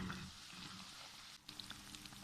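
Vegetable naan pakoras fry quietly in hot oil, a soft steady bubbling sizzle with a few faint pops, close but low in level.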